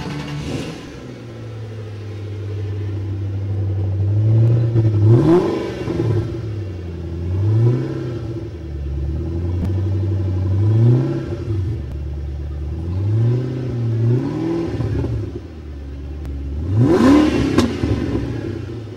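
A 540-horsepower 2008 Ford Shelby GT500KR at the New York Auto Show revs repeatedly, its close, rumbling engine idling steadily between about half a dozen rising and falling throttle blips, with no talk over it.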